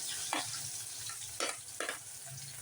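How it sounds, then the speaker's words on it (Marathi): Chopped onion frying in hot oil in a kadai, cooked until reddish-brown for a spicy mutton dish: a steady close sizzle broken by a few louder bursts of hiss, with no talking. "कांदा एकदम छान लालसर तळून घ्यायचा"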